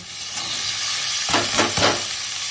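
Shrimp rubbed with salt and turmeric go into a pan with snake gourd, bursting into loud, steady sizzling frying that swells with a couple of stirring scrapes midway.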